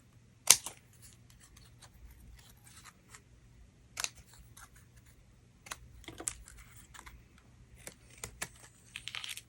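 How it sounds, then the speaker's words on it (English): Scissors snip into paper card while a double flip card is being made, close and fairly quiet. Sharp, scattered cuts and light paper rustles come in irregular bursts over a faint, steady background hum. "we're going to snip into this one and put the other one on the other side"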